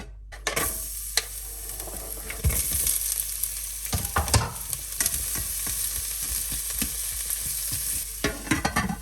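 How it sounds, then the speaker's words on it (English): Garlic and onion sauteing in a hot slow cooker, a continuous close sizzle with intermittent stirring scrapes and clatters, no talking. "Slow cooker is hot enough, so let's send garlic and onion to saute for a few minutes."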